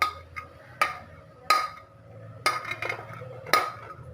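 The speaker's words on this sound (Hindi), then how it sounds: "अब बेसन को मैंने एक बाउल में डाला है और इसके साथ ही ये धनिया डाल रही हूँ और ये सब्ज मिर्चें भी, जीरा, ये सारी चीजें इसमें इस तरह मिक्स कर देनी है" Gram flour being mixed in a bowl with coriander, green chillies and cumin: a spoon scrapes and knocks against the bowl in sharp periodic clinks roughly once a second, with softer stirring rustles between, close-up and without talk.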